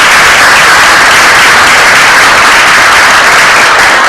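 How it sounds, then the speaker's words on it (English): A large crowd at a county commissioners court meeting applauds steadily, a dense, loud wash of clapping that holds without a break. "I'd like a round of applause for him"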